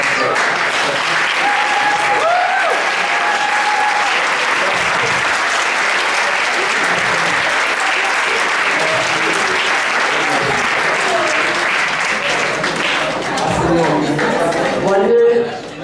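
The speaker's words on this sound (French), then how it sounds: "qu'on l'applaudisse." Loud, sustained applause from a large audience at an awards-style excellence day, a thick wall of clapping that holds steady for several seconds before swelling and cutting off, with voices faintly mixed in.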